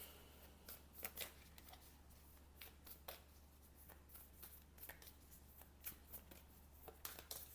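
A tarot deck is shuffled close by in faint, soft, repeated card slaps and flicks that come in quick clusters over a steady low hum, with no one speaking.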